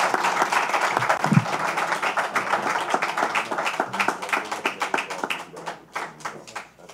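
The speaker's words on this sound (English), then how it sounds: "So another round of applause for Kid Chocolate, Peter Quillin." Audience applause at a post-fight event for the Daniel Jacobs versus Peter Quillin boxing match, dense clapping from a room full of people that gradually thins into scattered claps and fades out.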